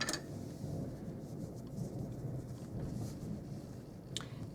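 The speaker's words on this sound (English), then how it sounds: "We have horrible thunderstorms today." Heavy thunderstorm outside with a continuous low rumble of thunder and steady rain wash, fairly distant and sustained, with a brief sharper crackle near the end.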